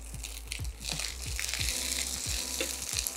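Green beans dropped into hot oil with popped mustard seeds and chili, a loud steady sizzle and frying hiss close by, with crackling pops and stirring.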